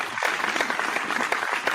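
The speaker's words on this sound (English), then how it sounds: "Round of applause for that." A studio crowd applauds steadily throughout, a dense, continuous patter of clapping from a small group of people at close range.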